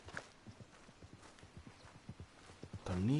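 Horse hooves in the Red Dead Redemption 2 video game, a steady rhythmic clip-clop of a trotting horse, fairly quiet, ending with a short whinny-like sound as a voice starts to talk.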